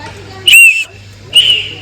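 A handmade whistle is blown at a village goods market stall in Vaghai, Gujarat: two loud, shrill blasts, each about a third of a second long, separated by a short pause over a low background hum.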